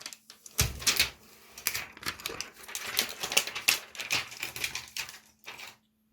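Plastic wrap peeled and pulled off a new Dell KM7321W keyboard: close crinkling, tearing and light tapping in bursts, with a short pause early on and silence at the end.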